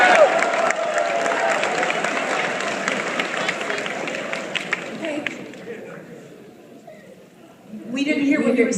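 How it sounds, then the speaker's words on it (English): Audience at a Bronycon convention panel applauding, a dense steady patter of many hands with a few cheers that fades briefly before swelling again at the end. "Everybody applauded."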